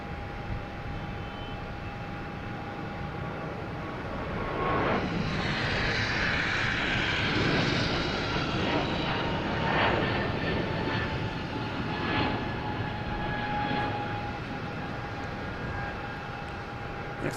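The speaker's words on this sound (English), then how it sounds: "we have a JetBlue taking off to Syracuse. An A220" A JetBlue Airbus A220 jet takes off at Boston Logan Airport, its engine roar swelling from a distant hum into a loud, broad rushing sound, then slowly fading with a long rumble.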